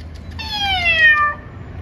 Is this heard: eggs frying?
no